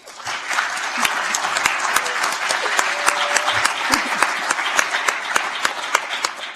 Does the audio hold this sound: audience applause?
yes